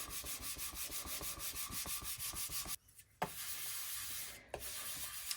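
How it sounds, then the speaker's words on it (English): Polymer clay flower pieces burnished onto white clay for a double-sided bangle: quick rhythmic rubbing strokes, close and soft, then a brief pause, a couple of light taps and more scraping rubs. "So you gotta get a good burnish on there."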